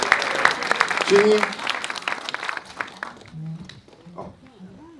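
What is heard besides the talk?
round of applause for young volunteers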